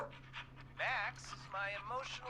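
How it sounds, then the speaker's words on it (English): Max, an emotional support rescue dog in the video game Killer Frequency, pants in quick, breathy bursts close up, mixed with short voiced yelps over a low steady hum. "Max is my emotional support dog"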